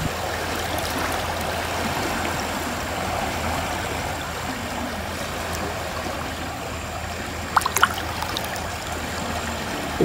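Steady water flow in a large, long canal, with bare feet dangling in the cold water at the bank; a continuous close rushing trickle runs without pause, with a couple of brief splashy clicks near the end.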